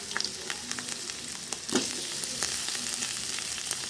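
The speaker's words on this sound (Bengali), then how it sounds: "আলু ভাজা হয়ে গেছে" Potato pieces fry in hot oil in a pan for a cauliflower dish, giving a steady close sizzle throughout that swells a little louder partway through, with a few faint clinks and no talking.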